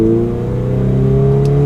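Loud, close engine note of a Toyota 86 TRD under a hard acceleration pull, a steady rising drone with strong tonal harmonics from inside the car and no talking.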